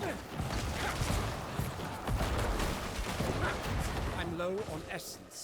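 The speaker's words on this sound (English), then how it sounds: "let's get a bunch of corpse explosions in there." Corpse explosions in the action role-playing game Diablo IV, a dense series of blasts and impact bursts mixed with combat clatter, with a voice talking over the game sounds.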